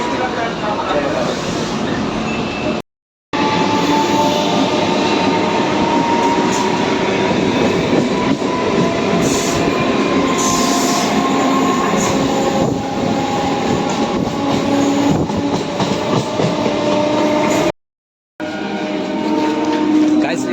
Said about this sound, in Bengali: এটা হচ্ছে আমাদের ট্রেন চলে যাচ্ছে